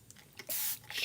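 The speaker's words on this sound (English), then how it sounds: "I'm going to spray my" Short hissing bursts of water sprayed onto a foam brush while preparing a resin pour. One main spritz comes in the middle and a second starts at the end, close and fairly loud against a quiet room.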